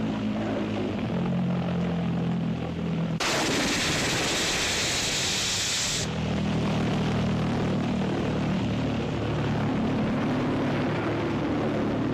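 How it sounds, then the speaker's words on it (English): A propeller chase plane flies overhead, a continuous droning engine buzz with steady low tones, interrupted midway by a few seconds of bright hiss before the drone resumes; no speech. "That was the chase plane up the top."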